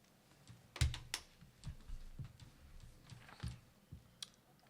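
Scattered clicks and taps on a computer keyboard, irregular individual keystrokes with a few sharper louder presses, fairly close over a quiet room background.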